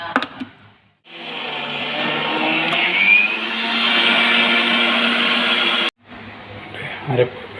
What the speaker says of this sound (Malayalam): അതിട്ട് നമ്മൾ ഗ്രൈൻഡ് ചെയ്യുക.